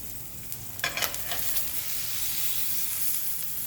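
Boneless strip steak sears in a hot pan just after flipping: a steady, bright sizzle runs throughout, with a few sharp scraping clatters near the start and no talking.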